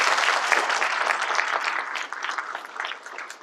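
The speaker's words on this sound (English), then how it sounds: "Give her a big round of applause as well." Applause from an audience at an Indian-American business meeting for an executive assistant, a dense, steady clapping that carries through the whole stretch and thins slightly toward the end.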